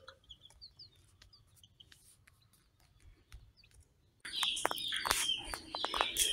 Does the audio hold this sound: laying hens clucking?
yes